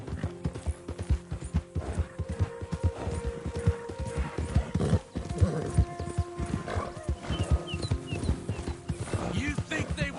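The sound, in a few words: horse clip-clopping and neighing in the video game Red Dead Redemption 2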